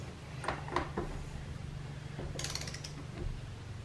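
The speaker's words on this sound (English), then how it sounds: "When this thing clicks, I'll have 50 pounds." A torque wrench set to 50 pounds tightens a camper axle nut, giving a few soft mechanical clicks and ratcheting ticks close by over a low steady hum, with no talking.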